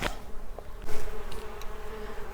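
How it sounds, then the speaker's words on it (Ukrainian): Honeybees hum softly in short stretches in a garden in warm winter sunshine, a faint buzzing drone broken by a few brief clicks and passing wing sounds. "Бджоли вже прокинулись, вже годуть, сонечко тепло."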